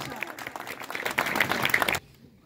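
Audience applause greeting Chaudhry Moosa Elahi at a welcome gathering in Khadriala village: dense, lively clapping mixed with crowd voices for about two seconds, then cutting off abruptly to a quiet room.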